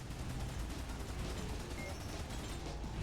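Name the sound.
mines exploding in a racing video game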